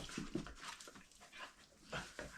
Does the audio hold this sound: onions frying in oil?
no